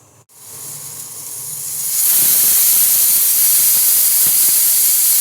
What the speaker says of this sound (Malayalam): അപ്പോൾ പ്രഷറൊക്കെ പോയി ഞാനിപ്പോൾ ഓപ്പൺ ചെയ്തിട്ടുണ്ട്